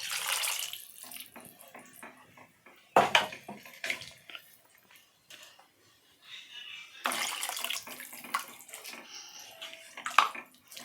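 Water from a rinsed grinder jar pours into a pan of masala for fish gravy, splashing in a few bursts with quiet gaps between, fairly soft and close, with no talking.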